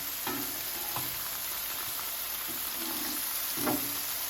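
Prime ribeye sizzles on a Blackstone griddle, a constant close frying hiss broken by a few scraping spatula strokes against the metal surface.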